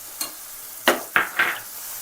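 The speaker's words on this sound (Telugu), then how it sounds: "ఇలా తాలింపులో ఇలా చట్నీని ఇలా మిక్స్ చేసుకోవాలి." Tomato and sesame chutney being stirred into hot tempering in a pan, three or four short scraping, sizzling strokes spaced a fraction of a second apart, close and fairly quiet, with no talk.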